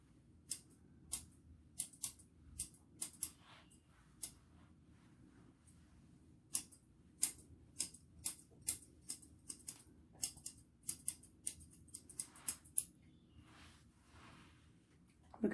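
Scissors trimming the long hair of a standard poodle's topknot, soft close snipping in irregular bursts of quick clicks against a faint quiet background.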